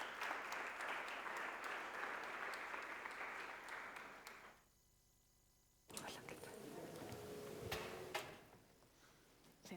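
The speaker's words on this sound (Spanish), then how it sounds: "Un fuerte aplauso para nuestros siguientes participantes." Audience applause at a business panel event on purpose-driven brands, a dense burst of clapping that cuts off abruptly, followed by quieter room noise and scattered shuffling and thuds.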